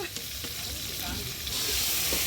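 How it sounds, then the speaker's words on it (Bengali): Ginger paste, cumin paste and chili powder sizzle and fry in hot oil in a pan, a steady close crackling hiss that swells slightly toward the end. "এবার মশলা দিয়ে দিল, আদা বাটা, জিরে বাটা, তাই না?"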